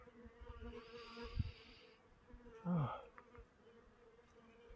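Bees buzz softly in the background while a couple of brief chirps and a short louder sweep break through near the middle.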